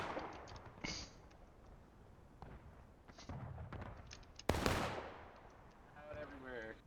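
Several distant artillery shots in a Civil War video game, sharp scattered reports spaced a second or two apart with one louder close blast near the middle, under faint background noise.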